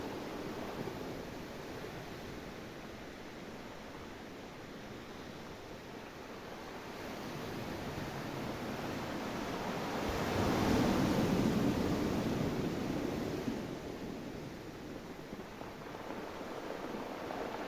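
Ocean waves breaking on a beach, a continuous broad wash of surf that swells to a louder crash midway and then recedes, steady and enveloping with no voices.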